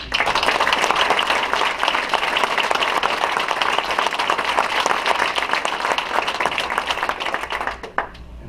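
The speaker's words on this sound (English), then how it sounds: "So let's give Jesse a round of applause." An audience at a city council meeting applauding for Jesse, dense steady clapping from many hands filling the room for about eight seconds before tapering off abruptly.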